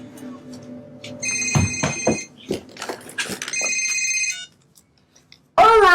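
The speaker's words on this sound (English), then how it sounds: "It's ringing, it's ringing." A phone ringtone sounds during a call, a bright repeating electronic trill in several bursts, loud and close, with background noise between rings and a voice breaking in at the very end.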